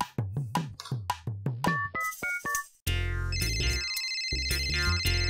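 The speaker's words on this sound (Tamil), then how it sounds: "எனக்கு தெரியும், அந்த ட்ரெயினி திவ்யாவுக்கு ஃபோன் போடு." A phone call is placed and a bright electronic ringtone answers with a run of rhythmic melodic beeps. A sustained, louder chiming tone pattern follows. It plays alone, with no talk.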